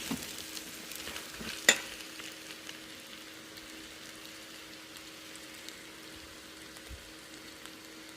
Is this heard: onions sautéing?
yes